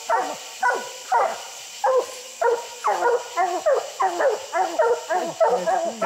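Several coon hounds, Walker dogs out on a night coon hunt, bark and bawl repeatedly in uneven bursts at moderate distance, with higher yips mixed in and no talk over them.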